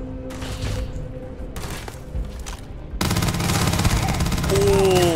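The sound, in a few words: SMG gunfire in the video game Starfield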